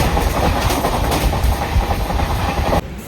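Interior of a moving passenger train on a journey, with a steady loud rumble and rhythmic clatter of wheels over the rails, close and continuous with no speech, dropping slightly just before the end.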